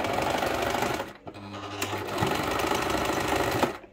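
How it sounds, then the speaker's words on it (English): A sewing machine sews up the end of a 1/16 scale sand bag, running steadily with a rapid mechanical whir, pausing briefly before resuming at a constant pace, close and fairly loud. "If you've got a sewing machine, you can then sew the end up"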